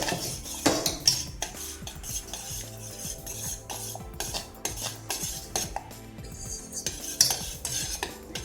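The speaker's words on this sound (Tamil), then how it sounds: "இப்போ கிளறிட்டே இருக்கும்போது இதோ ஒரு கொதி வருது." A spoon stirs and scrapes around a pot of kanji porridge, flour batter in boiling water, in irregular strokes, with clinks against the metal and faint bubbling underneath.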